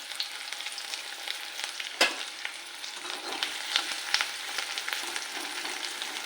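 Onion frying with curry leaves in a pan for a home-style okra bharit, a steady close sizzle with a few sharp stirring scrapes and pops, no voices.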